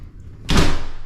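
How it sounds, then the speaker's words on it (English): A shower door in a house slides and shuts, a brief rolling rush of movement that ends in a firm close, heard close up in a quiet room. "Shower door seems to be okay."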